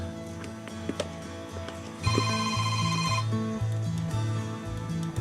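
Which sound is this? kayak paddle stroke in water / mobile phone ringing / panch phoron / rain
mobile phone ringing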